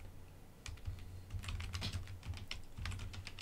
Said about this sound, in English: If we could type properly